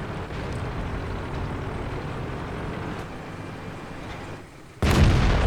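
Tank cannon fire in World of Tanks: a steady low engine rumble runs throughout, then one loud, close cannon blast bursts in near the end.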